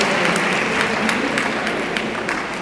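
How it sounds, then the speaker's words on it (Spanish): A crowd applauds the group from Patzún at a community gathering, producing a steady, evenly dense wash of clapping that holds at a constant level from start to finish. "De Patzún, un fuerte aplauso para todos."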